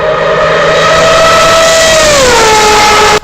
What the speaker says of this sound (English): people describe the sound of that engine as one of the greatest noises ever made by a racing car